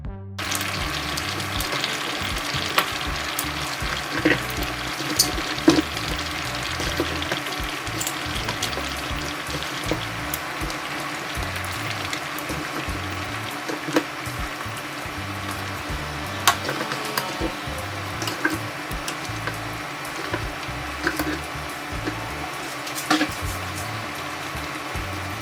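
Yam and beans porridge simmers in a covered pot, giving a steady bubbling, hissing wash of sound with small pops and clicks throughout.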